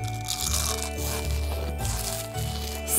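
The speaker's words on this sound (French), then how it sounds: "Tu ne t'entends pas mastiquer ce truc au milieu de la bibliothèque?" Someone chews a crunchy snack noisily in a library, a steady run of close crackling bites layered over background music.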